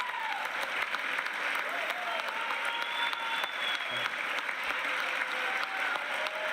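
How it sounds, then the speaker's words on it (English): A crowd claps steadily before a presidential address, loud and sustained with no break, and a few faint whistles rise above the applause. "I'm ready for the clapping to be done."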